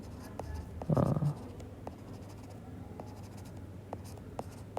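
Marker or chalk strokes writing on a board during an accounting lesson, a short scratchy burst followed by a few light taps, quiet against room hum.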